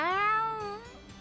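A cat in the role-playing game Tales of Xillia 2 gives a single clear, drawn-out meow that rises and then falls, close and fairly loud.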